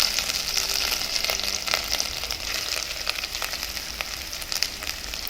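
Grated coconut sizzles and crackles in hot ghee with poppy seeds in a pan, a steady close frying hiss with light scattered pops and occasional stirring scrapes.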